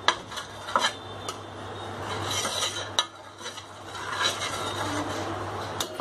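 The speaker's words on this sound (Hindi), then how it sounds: "अब इस पे तेल थोड़ा सा डाल देंगे, हिला देंगे इसे अच्छी तरीके से" Oil is spread around a nonstick tawa with a utensil, giving soft scraping and light metallic clinks over a low steady hum, close and fairly quiet, without talk.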